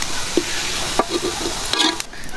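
Fresh fish frying in hot oil for a rustic village-style curry, a steady sizzle with a few soft stirring scrapes and clinks, close and unaccompanied by talk.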